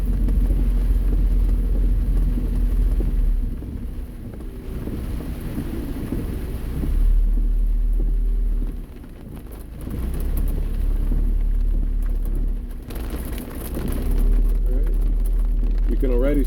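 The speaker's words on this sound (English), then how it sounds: "Something very poetic about the rain." Rain falls around a moving car, with low rumbling that may be distant thunder or the engine drone. The patter and rumble are steady and moderate, and a voice speaks faintly inside the cabin.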